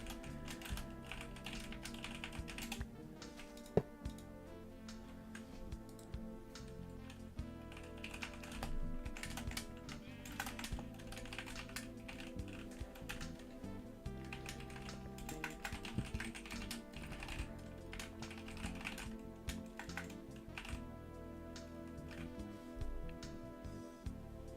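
Rapid, irregular tapping on a computer keyboard while working in Minecraft Bedrock, close and fairly quiet, continuing steadily the whole time with no speech.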